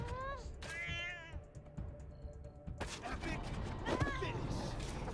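A cat meows several times in the Wasteland 3 video game, with rising and falling wails among combat thumps and game effects, and a voice talks briefly over it.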